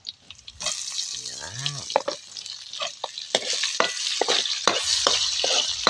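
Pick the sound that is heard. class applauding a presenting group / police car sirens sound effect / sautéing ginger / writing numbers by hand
sautéing ginger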